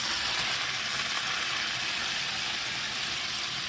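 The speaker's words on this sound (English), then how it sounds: "You're going to go ahead and add the remainder of your butter" Butter and olive oil sizzle steadily in a hot pan for blackened salmon, a loud, even, dense hiss that holds without a break from start to finish, with no voices.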